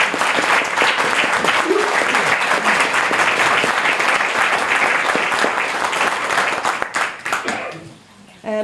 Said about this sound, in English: let's give us all a big clap